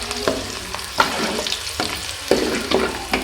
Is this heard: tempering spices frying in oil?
yes